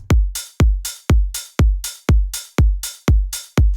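A steady loop of deep booming kicks alternating with hissing open hi-hats, eight even cycles at a moderate tempo with slight MPC-style swing, clean and upfront with no voices.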